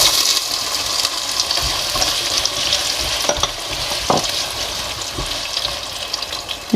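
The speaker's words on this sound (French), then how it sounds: "Lorsque l'huile est déjà chaude, je rajoute les oignons." Steady sizzling of onions frying in hot oil in a saucepan, with a few sharp clinks and scrapes of stirring over the constant crackle.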